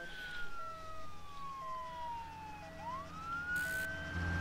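A wailing emergency siren sweeps up and down over steady road traffic, loud and close throughout with no talk over it.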